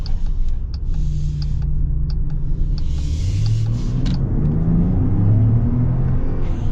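A 2025 Jeep Grand Wagoneer Obsidian L with a 540-horsepower engine accelerating, a smooth low rumble building steadily from inside the cabin, with faint clicks and road whir over it and no talk.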